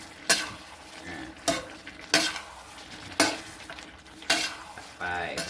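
Pork stir-fried with curry paste and long beans in a wok, the spatula scraping and clanking in about five sharp, regularly spaced strokes over a continuous close sizzle, with no talk.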